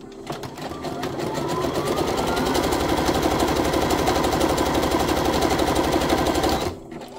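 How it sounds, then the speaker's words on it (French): A domestic sewing machine stitching a small piece of fabric runs in one steady, fast, rattling burst lasting several seconds. Its motor whines faintly underneath before it stops. "Allez, on part en couture."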